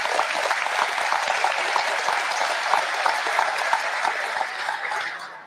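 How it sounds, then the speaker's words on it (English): Loud, dense applause from a large crowd, steady and sustained throughout, tapering off slightly at the very end. "give him a round of applause for his service"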